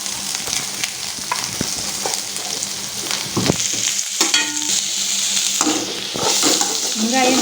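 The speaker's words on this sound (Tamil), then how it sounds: "நல்லா வெங்காயத்தை வந்து வதக்கிக்கலாம். வெங்காயம் சீக்கிரம் வதங்குறதுக்கு கொஞ்சமாக நான் வந்து கல்லுப்பு போட்டுக்கிறேன்." Onions sauté in a pan with a little rock salt, a steady close sizzle broken by spatula scrapes and stirring knocks, growing slightly louder toward the end.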